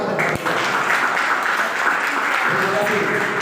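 Classroom applause from students during a teaching-practice exam session, a steady dense patter of clapping that fills the whole stretch without pause.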